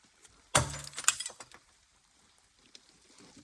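A glass shatters in one loud crash near a microwave, followed by a second of tinkling, clinking fragments that fade into quiet room sound.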